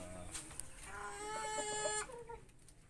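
Chickens that have just been fed give a short run of clucks and harmonic calls, fairly near, over a soft outdoor background.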